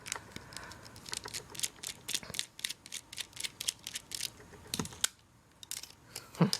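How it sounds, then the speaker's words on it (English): A small screw being backed out of an LG Rumor Reflex phone during a teardown, heard as a run of quick, close, faint clicks and ticks with brief pauses, no talking. "There's also one more screws that I need to unscrew."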